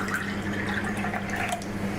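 Distilled water poured into a cup, a steady close trickle and splash lasting about two seconds with no talk over it.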